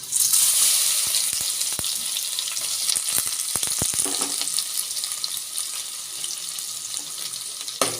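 Fenugreek, ginger and garlic hiss and crackle in hot oil for a fish curry. The sizzle is steady and close throughout, with a few sharp ticks and spatters scattered through it and no talking.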